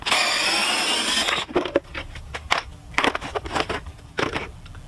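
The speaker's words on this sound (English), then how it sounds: "next we're going to remove the factory airbox cover and the air filter using a flathead screwdriver" A flathead screwdriver pries at the plastic airbox cover of a 2019 Jeep JL, a loud rustling scrape followed by a series of sharp clicks, snaps and plastic rattles as the cover and air filter come free.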